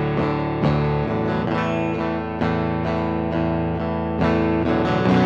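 A Danelectro baritone guitar run through a Decapitator distortion plugin plays a gritty, saturated riff of repeated low chords and notes with a steady rhythm, heard alone without voices.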